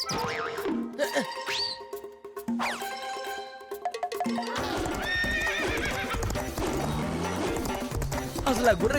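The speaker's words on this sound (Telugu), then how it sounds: "అసలు ఆ గుర్రం ఏం తింటోంది?" A cartoon horse whinnies in high, wavering cries, then hooves clip-clop steadily with light jingling in a busy, layered animated scene.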